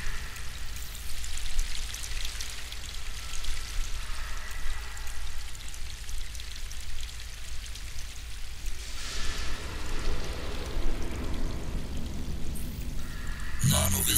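Cold water runs steadily in the video game Crysis 2, a continuous hissing, splashing stream that carries on for the whole stretch and grows slightly brighter toward the end.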